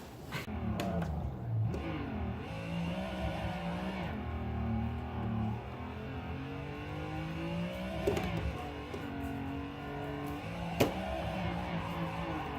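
A Mazda Miata drifting with its engine revving hard and steadily, sweeping up and down in pitch, with a couple of sharp knocks along the way.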